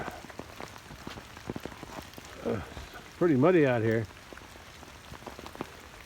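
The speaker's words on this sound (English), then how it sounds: "Oh, it just started to rain harder now." Steady rain falls outdoors on a farm with partially flooded, muddy pastures, a dense close patter of drops throughout while someone speaks briefly partway through.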